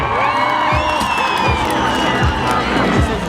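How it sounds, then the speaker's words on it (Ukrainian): A crowd at an air show cheers and applauds as an aerobatic plane rolls and dives overhead, a loud, dense and continuous wash of clapping and shouting. "і ще гучнішими оплесками"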